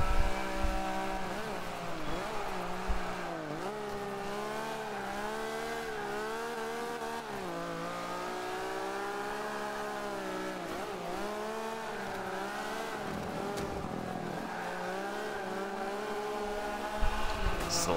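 A Lancia rally car in Forza Motorsport 5 runs steadily at high revs, its engine note rising and dipping through gear changes while the tyres scrub and slide, close and continuous throughout.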